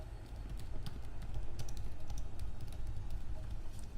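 Steady, close typing on a computer keyboard, a quiet continuous patter of key presses entering text, with no talking.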